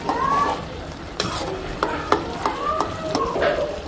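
Potatoes frying with shidol, fermented dried fish, in a pan, a steady close sizzle punctuated by several sharp scraping stirs of a spatula, with no voices.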